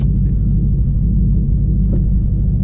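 A Ford Mustang GT 5.0 with a Flowmaster exhaust idles with a deep, steady, low rumble, loud and continuous, with no voices.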